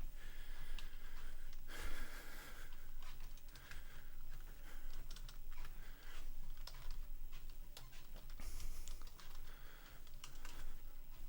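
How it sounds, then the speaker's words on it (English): Typing on a computer keyboard in a steady run of close, crisp key clicks and taps lasting several seconds, with no talk over it. "it looks like I'm just gonna have to type it out"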